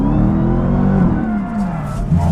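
A Dodge Challenger Hellcat, 2015, floored with traction control off: a loud, close engine roar that surges and shifts pitch, then rises again near the end, with the rear tires likely breaking loose.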